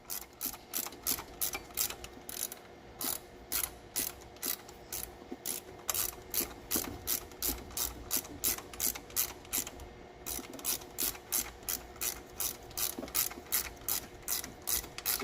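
A ratchet wrench works on a stuck bolt, clicking in rapid, even bursts, stroke after stroke, close and clear with brief pauses between sets.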